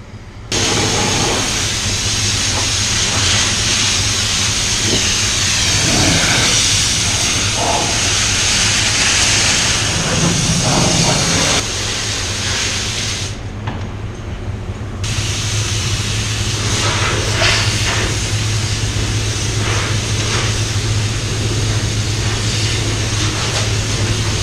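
Compressed air hisses and roars loudly and almost continuously while blowing off a Tesla body in a paint booth before a red multi-coat, with a short pause in the high hiss partway through.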